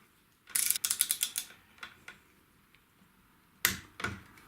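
A torque wrench ratchets on a Shimano front crankset bolt, giving a quick run of sharp clicks followed by a few isolated clicks and a final pair, close and clear with no talking.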